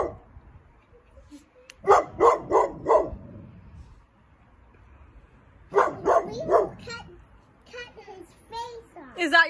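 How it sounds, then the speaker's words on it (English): A pit bull barks in two quick bursts of about four loud barks each, close by, with people talking between the bursts. "I'm pretty sure that's a pit bull."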